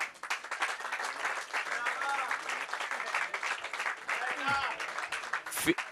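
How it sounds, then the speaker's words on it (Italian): Applause for the 15 participating teams at a national MSP five-a-side football championship event, a steady wash of clapping from a gathered crowd that fills the whole stretch, with a voice speaking over it near the end. "Un ringraziamento a tutte le 15 squadre partecipanti, tributiamo un bel applauso."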